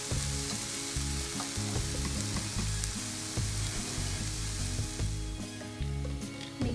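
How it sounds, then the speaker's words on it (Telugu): Thotakura (amaranth spinach) fries in a pan, giving a steady, close sizzle and crackle that runs the whole time, with soft tonal hum underneath and no talking. "తోటకూర మనకి చక్కగా ఫ్రై అయిపోయింది కదా"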